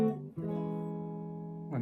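A guitar plays a melody harmonized with 6 diminished chords, one sustained ringing chord with a quick change at the start and a new chord struck at the end, close and moderately quiet.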